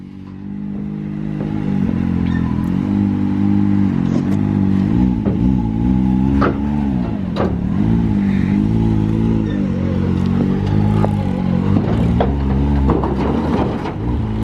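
A Jeep Rubicon engine crawls along in low-range four-wheel drive, a steady loud rumble that holds through the whole stretch, with slight revving swells and occasional clatter from the drivetrain.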